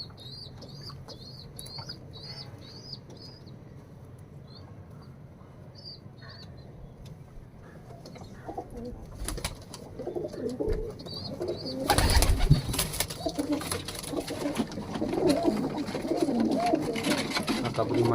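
Pigeons in a loft, with soft repeated cooing early on, then a burst of loud, close wing flapping and scuffling that keeps going to the end.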